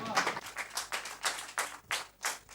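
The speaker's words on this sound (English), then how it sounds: "All right, a round of applause again for her." A small group claps for a speaker at an oratory contest, a few hands producing loose, uneven bursts of claps with short gaps, fairly close and moderate in volume.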